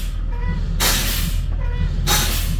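A school bus air brake system lets out two loud bursts of pressure-release hiss as pressure is brought down to about 80 psi. The hisses come about a second and a half apart over a steady low idling engine rumble.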